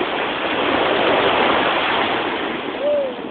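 Broad, steady rush of moving water, splashing and churning continuously at close range without pause.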